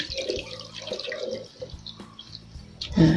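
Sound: water being strained off Thai melon seeds

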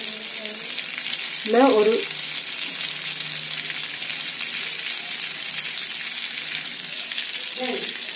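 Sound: butter sizzling while frying in a pan

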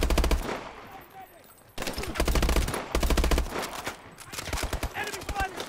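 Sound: gunfire in video game Call of Duty Advanced Warfare

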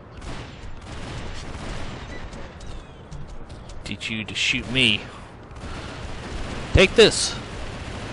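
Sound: gunfire in the video game Champions Online

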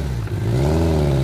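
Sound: voice imitating a motorcycle

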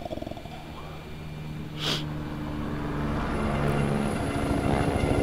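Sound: helicopter in the video game The Division 2

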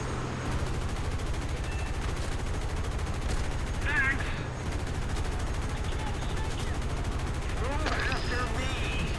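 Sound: gunfire in video game War Thunder

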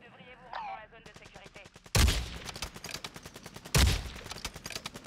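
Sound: gunfire in Warzone 2 video game

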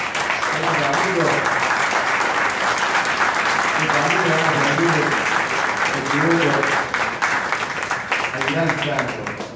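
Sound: audience applause for the singers

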